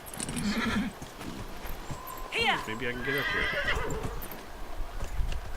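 A horse in the video game Dragon Age: Inquisition whinnies loudly mid-clip, a descending neigh, while someone talks over it and hooves clip-clop beneath.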